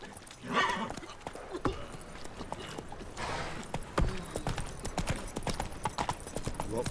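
Horse hooves from The Witcher 3 clop along in a steady galloping rhythm, close and moderately loud, with brief louder bursts of movement and faint background ambience.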